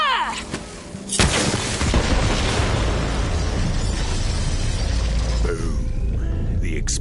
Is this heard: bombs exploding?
yes